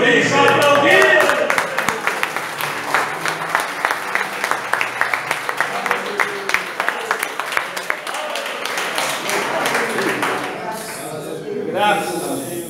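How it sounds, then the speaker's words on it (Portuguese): Church congregation applauding during a pastor's visit to a Pentecostal tabernacle in Curitiba, Brazil, a loud sustained wash of many hands clapping, settling into steady rhythmic claps, with voices calling out near the end. "Por isso, aplaudimos."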